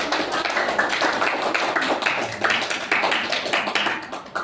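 Students in a classroom applauding a presenter, dense continuous clapping from many hands filling the room, loud and steady with no voices over it.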